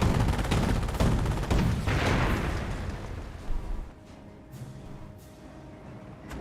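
Werfer rocket barrage in Company of Heroes 1: a dense rumbling cluster of loud blasts and crackling impacts for several seconds, then fading to a quieter battlefield with a few distant sharp pops.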